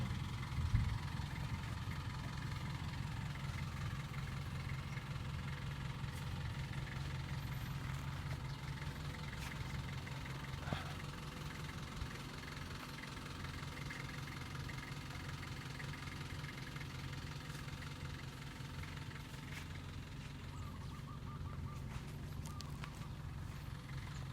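A solar-powered borehole water pump with a float switch runs steadily for the whole stretch, giving a continuous low mechanical hum and drone with no breaks and no talking.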